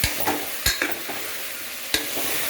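Ivy gourd curry being stirred in an oiled pan, a continuous close sizzle broken by several sharp scrapes of the spoon against the pan, no voices.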